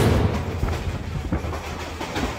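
A train sound effect in a narrated Telugu horror story: a loud, close, steady low rumble with rhythmic clattering and thumps throughout, and no voices over it.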